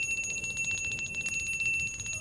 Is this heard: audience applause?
no